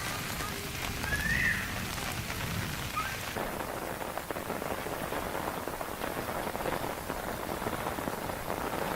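Heavy rain pours steadily in Jaipur amid a storm, a dense continuous roar of drops on hard surfaces, loud and close throughout with no voices.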